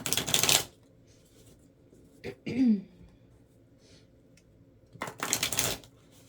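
Deck of angel number oracle cards shuffled up close, with two loud riffling bursts at the start and end and a throat clear in between, no talk.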